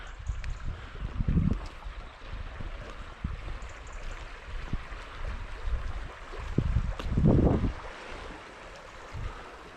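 Water running through the Tetbury Ford, a flooded road crossing about a foot deep that feeds toward the River Avon, gives a steady broadband rush, with wind buffeting the microphone in low gusts and no talk.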